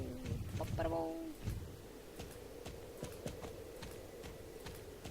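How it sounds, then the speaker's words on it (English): Hooves of a horse in the video game Star Stable Online clop in a steady, fairly quiet walking rhythm, with a short bird call and a voice at the start. "Get on, horse."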